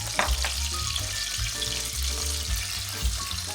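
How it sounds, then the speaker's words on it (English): Minced garlic sizzling in melted butter in a pan for a Tuscan chicken pasta bake, a loud continuous frying hiss with bubbling crackle, close and alone with no voices. "Once your butter has melted, you want to add in your minced garlic"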